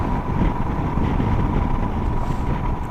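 Strong wind buffets the microphone in a steady, loud, low roar that runs through the whole stretch, with no voices.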